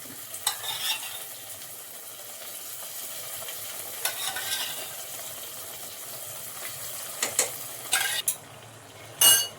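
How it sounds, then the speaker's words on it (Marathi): A spoon stirs carrot halwa with fried cashews and almonds in a pan, giving soft scraping swishes and a faint sizzle at low volume, punctuated by a few sharper clinks of metal against the pan near the end. "आणि आता परत एकदा परतून घ्यायचं."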